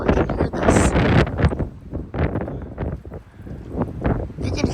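Strong gusts of wind, around 40 mph, buffet a church building in Plano, Texas, producing loud, continuous roaring rushes that swell and ease in waves close to the microphone.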